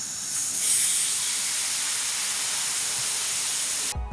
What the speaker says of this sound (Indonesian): Intinya sih otak-otaknya ini digoreng hingga kokoh dan garing